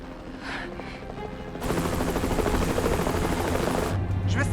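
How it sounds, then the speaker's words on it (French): A helicopter drones at a distance at first, then its rotor chop suddenly swells into a loud, close, steady beating clatter that persists to the end. "Vous entendez cet hélicoptère?"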